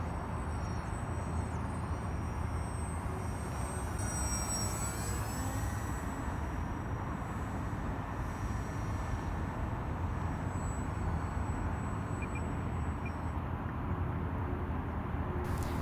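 A budget UAV RC airplane flying with its electric motor running, a steady distant drone under wind and outdoor noise, with thin high whining tones drifting in and out as it passes overhead.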